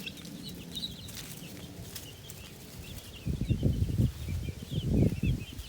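Backyard chickens cluck softly nearby with scattered calls, followed by heavier bursts of scuffling and wing flapping toward the end.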